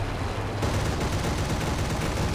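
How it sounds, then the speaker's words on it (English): Bf 109 E-4 cannons firing in the War Thunder combat flight game, heard as dense rapid bursts of gunfire over a continuous roaring engine and wind wash, with no break in the noise throughout. "I am again shooting like crap"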